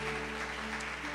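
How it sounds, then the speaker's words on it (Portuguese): Church congregation claps for a group of women, a short, faint spatter of hands over a steady electrical hum in the hall. "Vamos aplaudir a vida delas em nome de Jesus"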